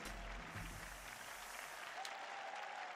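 Crowd applause in the video game Nidhogg, a quiet burst of steady clapping that fades out partway through, faint and thin, with no voices over it.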